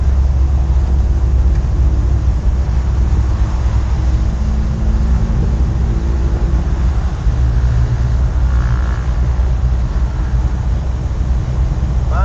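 Camper van engine running steadily on a road test, a continuous low droning rumble with road and wind noise, smooth and even throughout with no talking.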